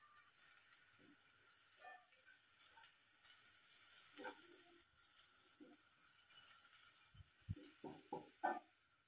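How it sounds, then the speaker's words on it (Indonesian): Shallots fry in a pan for crispy salted chili tofu, a faint steady sizzle running throughout with soft intermittent scrapes and clinks of a spatula stirring them. "Aduk-aduk terus sampai bawang merahnya juga mulai kering, mulai agak ke kuning, mulai kuning ke coklat-coklatan gitu"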